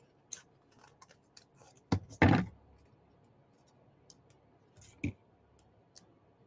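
Scissors cut paper petals for a magnolia card: a few light snips, one louder cluster of crisp close cuts, and a later single snap, with small clicks of handling in a quiet room.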